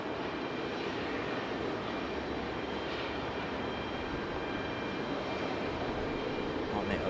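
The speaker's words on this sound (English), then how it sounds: "Only using one reverse thrust today, that one on the left engine there." Jet airliner landing at Raleigh-Durham International Airport with reverse thrust deployed on the left engine only, a loud continuous broadband engine roar that holds steady throughout, heard from nearby.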